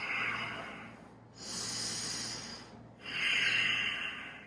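Three long, deep breaths during a vinyasa yoga practice: slow airy inhales and exhales follow one another with short pauses between, close and soft.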